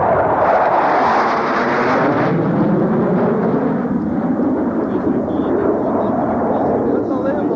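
Loud jet roar from F-16C Falcon fighters at the 1993 Quonset Point air show, a heavy continuous rumble that slowly shifts in pitch as the planes pass, with no voices.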